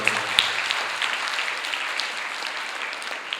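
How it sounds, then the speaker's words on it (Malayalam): An audience at a motivational speech at MA College of Engineering claps steadily, a broad, even patter of many hands held at moderate distance, with no talking over it. "കയ്യടി കൊടുത്തുകൊണ്ട് നമ്മൾ പറഞ്ഞു."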